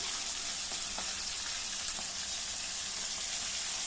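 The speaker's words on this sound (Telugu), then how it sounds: "అదే నూనెలో పచ్చిమిర్చి వేసి కొద్దిగా పసుపు ఒక్క 5 నిమిషాలు మగ్గనిచ్చుకోవాలి." Green chillies fry with turmeric in oil, giving a soft, continuous sizzle at low volume with faint crackles, steady throughout and no voices.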